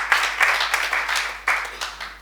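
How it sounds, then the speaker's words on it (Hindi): A poetry recitation audience breaks into brief, lively applause, a crowd of hands clapping in overlapping bursts that rise and dip over a couple of seconds. "मुझे अपनी तालियों के साथ आशीर्वाद दीजिए।"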